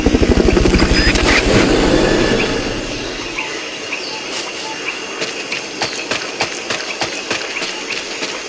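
A recovery helicopter in Metal Gear Solid Peace Walker thumps loudly with fast rotor beats at first, then fades to a lower wash under scattered clicks and chirps.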